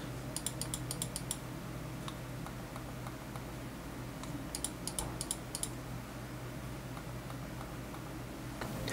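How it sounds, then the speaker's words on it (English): Two computer mice, a Razer Pro Click Mini and a Logitech G Pro X, give small sharp clicks in quick bursts, some soft and muffled, others crisper, heard up close against a faint background hiss. "Take a listen here on the loudness of the click on the ProClick Mini compared to the Logitech G Pro"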